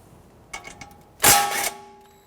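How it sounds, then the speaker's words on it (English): 18mm socket and ratchet loosening the outer tie rod end nut on a 1992-1996 Toyota Camry, a few faint metallic clicks followed by one louder short burst of ratcheting, close and with no talk. "Use an 18mm socket to loosen and remove the tie rod nut."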